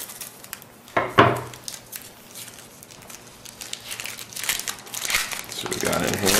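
A 2007 Topps baseball card pack wrapper crinkling and tearing open close up, with sharp crackles and rustles, while someone talks over it.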